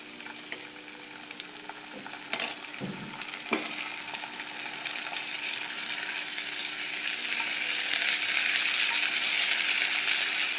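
Ginger garlic paste frying in hot oil over golden onions for a dhaba-style methi dish: a steady, close sizzle with a couple of soft clinks from stirring early on, growing louder and fuller toward the end.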